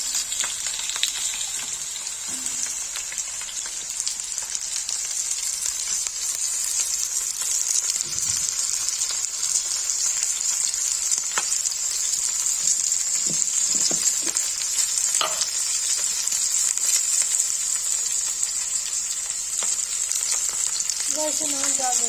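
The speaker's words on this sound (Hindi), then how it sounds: "तेल गर्म हो जाएगा तो नदरू फ्राई करेंगे" Nadru, sliced lotus stem, frying in hot oil crackles and sizzles continuously, with a bright steady hiss, occasional pops and stirring scrapes, moderately loud and without speech.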